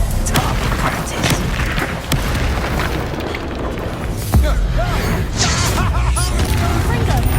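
Confringo spell explosions boom in Hogwarts Legacy, several loud blasts and bursts over busy combat noise, with a voice talking amid the effects.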